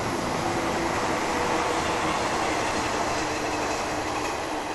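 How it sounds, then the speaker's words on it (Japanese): A 485 series train on the JR Hokuriku Main Line rumbles steadily past close by, a continuous loud roar of wheels on rails with faint clacking, filling the whole stretch. "485系ですね、まだ走っていますよ。"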